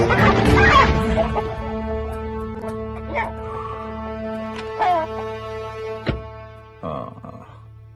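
A chicken or other fowl calling in short bursts against a quiet background, joined by a few sharp yaps like a dog, each sound separate and fairly near.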